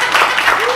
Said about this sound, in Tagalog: nabitin yung palakpak